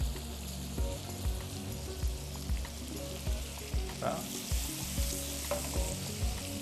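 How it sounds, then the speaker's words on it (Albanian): Small tomatoes sizzling in a hot pan alongside cod fillets, a steady close frying hiss with soft rhythmic low knocks of stirring or pan handling throughout. "I shtojmë domatet në tigan."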